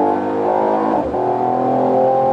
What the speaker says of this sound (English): Acceleration of this car is mind-blowingly awesome.